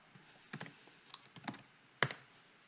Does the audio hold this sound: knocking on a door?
no